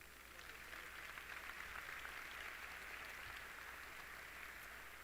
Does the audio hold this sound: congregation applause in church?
yes